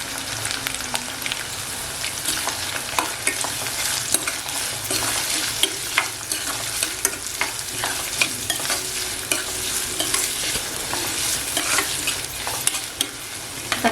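Onion and curry leaves stir-fry in a hot pan with a continuous sizzle, while a spatula scrapes and taps the pan in frequent sharp strokes, close and steady with no voices.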